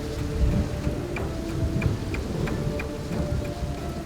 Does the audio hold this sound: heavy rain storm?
yes